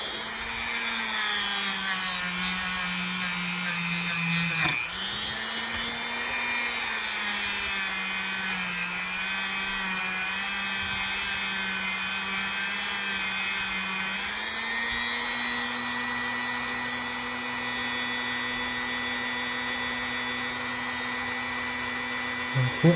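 Rotary tool fitted with abrasive pads grinding rust off metal, a continuous high whine that dips briefly in pitch twice as the pad loads, running alone without talk.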